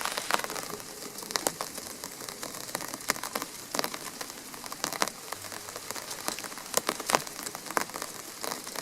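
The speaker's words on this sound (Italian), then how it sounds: "E soprattutto l'arrivo della pioggia." Rain falling in a garden in July, a steady close patter of drops on leaves and surfaces with scattered louder taps throughout.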